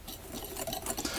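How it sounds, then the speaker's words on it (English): Lemon zest being mixed around in a bowl for a lemon tart, a brief, soft scraping and swishing stir with light rhythmic patter, close by and alone. "and then I'm going to mix that around"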